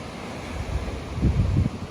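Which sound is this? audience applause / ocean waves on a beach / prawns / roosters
ocean waves on a beach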